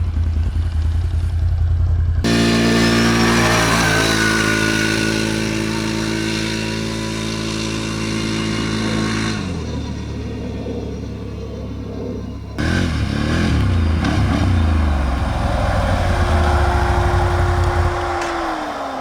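A Can-Am Renegade XMR 1000R or Polaris Scrambler XP 1000S ATV in four-wheel drive roars hard, its engine climbing through revs with shifts, then a second loud burst of acceleration with rumbling clatter.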